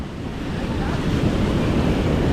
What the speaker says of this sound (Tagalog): matatagalan pa yan mga kabansot kasi medyo malaki pa yung alon